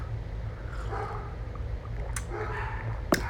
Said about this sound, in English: I'm sorry the dogs are going crazy.